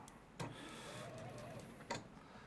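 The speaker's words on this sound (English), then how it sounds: "let me just do a stay stitch there, just so it's nice and secure" A sewing machine runs a short stay stitch on fabric, giving a faint, steady mechanical hum with two brief clunks about a second and a half apart, close by and with no talking over it.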